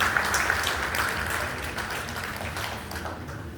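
Audience applause at a provincial convention in SIDCUL, Haridwar: a dense, steady patter of many hands clapping, strongest at the start and tapering slightly, with no voices over it.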